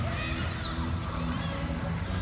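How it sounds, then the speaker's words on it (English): Crowd cheering and whooping fills a netball arena during a Mavericks v Swifts Super Netball match, a dense, steady roar of applause and shouts with no breaks. "that's exactly why the Mavericks bench are standing there applauding"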